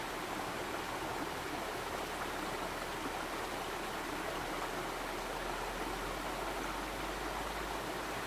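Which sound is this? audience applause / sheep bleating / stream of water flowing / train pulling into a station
stream of water flowing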